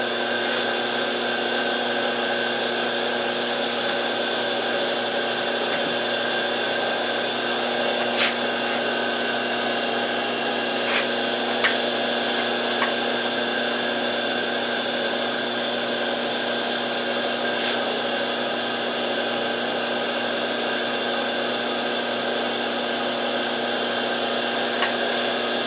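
A lathe cuts 20-threads-per-inch threads on custom adapters with a continuous steady machine drone, and a few faint ticks and clicks sound over it.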